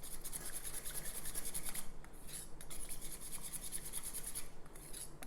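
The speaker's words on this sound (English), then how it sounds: "with a little whisk, it's coming together real nicely and making a thicker sauce" A small whisk stirring thick peanut butter sauce in a small bowl makes a steady, quiet scraping and rubbing, continuous and close, with no voices.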